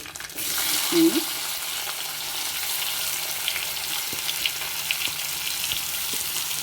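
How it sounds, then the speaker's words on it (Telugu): Green chillies, curry leaves and onions hit hot oil in a pan and sizzle loudly, a steady close frying hiss with a brief stir or clatter near the start and no talking. "పచ్చిమిర్చి కరివేపాకు ఉల్లిపాయలు వేసేస్తున్నానండి"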